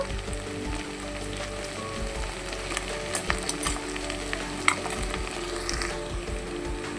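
Vegetables fry with ginger garlic paste in a pot for veg dum biryani, a close, dense sizzle with occasional clicks and stirring scrapes throughout.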